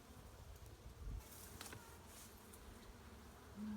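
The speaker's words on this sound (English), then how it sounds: "you can see how alive this air is with bees" Honey bees fly around a hive outdoors, a faint continuous buzzing with a few insects passing closer.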